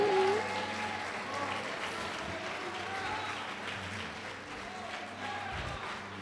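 A church congregation applauds steadily, a dense wash of clapping that fills the room for several seconds with voices mixed in.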